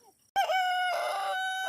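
A rooster crows loudly and close at a farm chicken coop, one sustained harmonic call that starts abruptly after near silence, with faint clucking from the hens.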